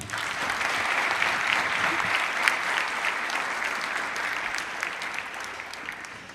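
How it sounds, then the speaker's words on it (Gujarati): Loud, sustained applause from a large seated audience at a spiritual gathering, a dense even wash of clapping that carries on for several seconds without letting up. "એકવાર જોરદાર તાળીઓ."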